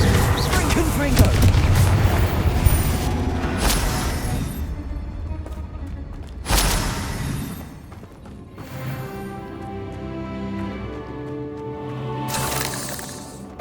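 Confringo explosive spell blasts in Hogwarts Legacy, several heavy booming bursts spaced seconds apart, each a sudden loud crash that rumbles and decays, with a voice speaking between them.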